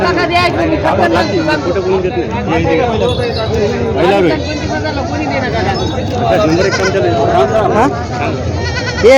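Native village goats bleating repeatedly at a busy goat market in Vasmat, their calls overlapping with steady crowd chatter and people talking nearby.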